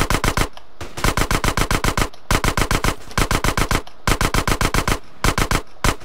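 Automatic gunfire in GTA San Andreas, rapid bursts of game machine-gun shots repeating in several groups separated by short pauses, loud and close throughout.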